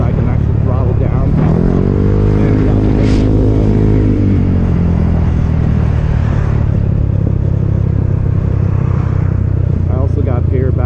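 A Znen ZN150T-9 scooter with a GY6 engine being ridden, giving a loud, steady drone under heavy wind rumble, with the engine pitch rising and falling as the throttle is eased off, while a rider talks over it.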